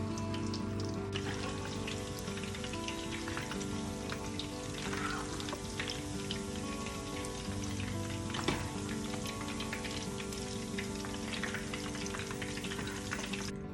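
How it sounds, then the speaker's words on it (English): Meatballs deep fry in hot oil with a dense, continuous crackling sizzle, loud and close, holding steady throughout with scattered pops and no voices. "I'm gonna heat up some oil and I'm gonna deep fry those meatballs"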